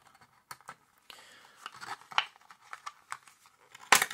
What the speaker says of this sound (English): So I open the box and there's no instructions in it